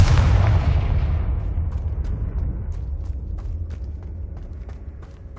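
A Confringo explosion spell from the video game Hogwarts Legacy goes off in a single loud, close blast, then rumbles and decays slowly into a fading tail with faint scattered clicks.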